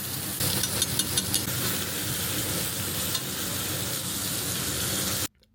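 A steak sears hard in a hot pan with butter, making a loud, steady sizzle that carries for about five seconds before it cuts off abruptly.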